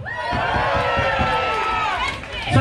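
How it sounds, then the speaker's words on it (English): Boxing crowd at a white collar event cheering for the red corner fighter, a loud, sustained chorus of shouting voices that swells and then tapers briefly near the end. "Let's have a cheer for the red corner!"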